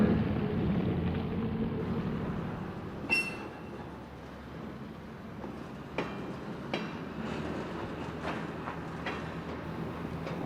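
A 1950s Oakland bridge train rolls along shared streetcar trackage near Lake Merritt, a steady rumble of wheels broken by sharp rail clicks and clanks, with no voices.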